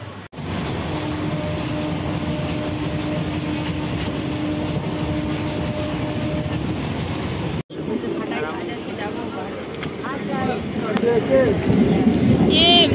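A train rumbles steadily and loudly with a faint whine for about seven seconds, then the sound cuts to a noisier scene at the station with people talking close by.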